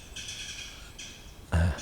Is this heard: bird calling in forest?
yes